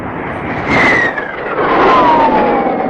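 A radio-drama sound effect of a test-flight airplane taking off: a roaring engine swells, then a high whining tone glides downward as the aircraft climbs away, steady and fairly loud with no voices.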